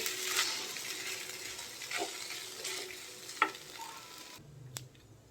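Noodles sizzle steadily in a frying pan as they are stirred, with occasional clinks from the utensil against the pan, close and continuous with no talking.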